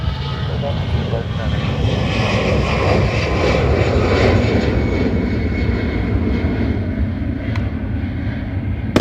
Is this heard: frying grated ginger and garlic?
no